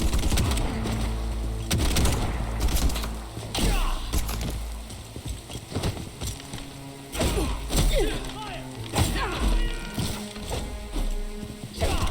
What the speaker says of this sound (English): The special ammunition in the shotgun's good though!